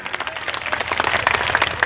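A live audience claps together during a Hindi speech. The broad, dense clatter runs steadily for about two seconds and builds slightly toward the end.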